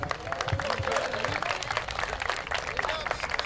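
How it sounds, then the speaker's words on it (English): Youth baseball team and families clapping for the Braves after a 10U world series final, a dense, steady patter of hands outdoors with voices talking over it. "Clap it up."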